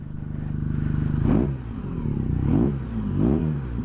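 A 2022 BMW R NineT Scrambler motorcycle engine idles with a fast rumble, then revs up sharply three times, each burst rising and falling, close and loud.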